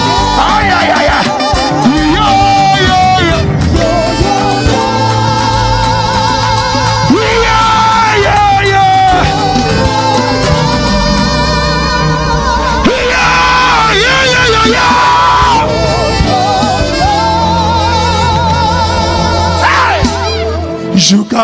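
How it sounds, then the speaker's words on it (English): Church congregation screaming and shouting praise at a gospel worship service, with loud, continuous yelling voices over dense, full band music and singing throughout. "I want to hear you shout the loudest shout of praise"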